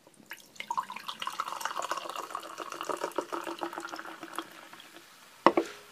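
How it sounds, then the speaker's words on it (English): Dr. Pepper soda poured into a glass fizzes and crackles steadily, a dense close-up hiss of bubbles that slowly thins out, ending with a single sharp clink. "Nice lovely fizzle."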